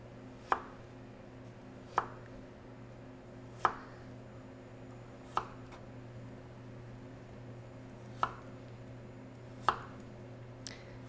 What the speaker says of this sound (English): now we're going to start just nice thin even slices on my carrots